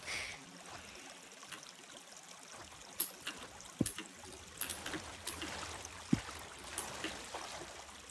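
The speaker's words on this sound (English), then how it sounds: "I'm actually destroying the waterfall." A waterfall in the block-building game Minetest flows with a soft, steady trickle and rush of water. It plays alone at a low level, with a few faint clicks and knocks scattered over it.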